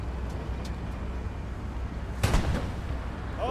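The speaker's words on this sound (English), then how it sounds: "No, that's artillery." Artillery in Hell Let Loose, one heavy distant boom landing midway through over a steady rumbling battlefield background, with a few faint thuds earlier.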